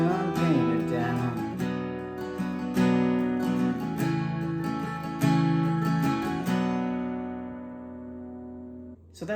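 Acoustic guitar playing the verse of a song, steady strummed chords close up for about nine seconds, ending with the strings ringing out.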